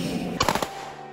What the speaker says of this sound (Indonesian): Tembakan salvo sebagai penghormatan dilepas saat pemakaman Kopda Eri yang dimakamkan di kampung halaman